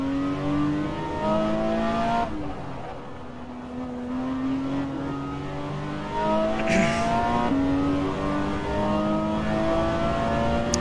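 A Porsche 911 GT race car in a racing video game revs hard and steadily, its engine note climbing through gear after gear with a brief shift pause, loud and close with no talk.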